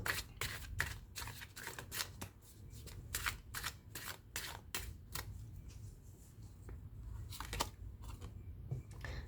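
Tarot cards are shuffled and drawn close to the microphone in quick, crisp riffling bursts and soft flicks, quiet overall with brief pauses between strokes.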